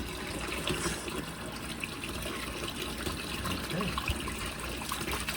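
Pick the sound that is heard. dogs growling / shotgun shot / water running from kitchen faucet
water running from kitchen faucet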